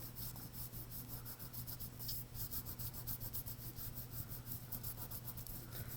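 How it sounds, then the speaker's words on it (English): A crayon rubs over paper laid on a collage with raised cutouts, making quick rhythmic scratchy strokes, close and faint, with no talking. "when I go to rub my crayon"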